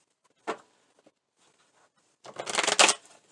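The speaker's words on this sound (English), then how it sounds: "I feel like I need to shuffle once" Tarot cards riffled and shuffled by hand: a brief soft flick, a quiet pause with faint handling, then a louder close burst of rapid card shuffling.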